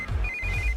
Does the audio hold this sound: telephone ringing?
yes